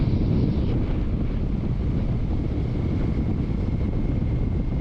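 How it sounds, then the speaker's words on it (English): Wind roars continuously over the microphone while riding a 2025 Honda Rebel 1100T motorcycle with risers, a loud, steady buffeting rush with engine rumble underneath and no talking. "there's a little more wind across my knuckles at this speed"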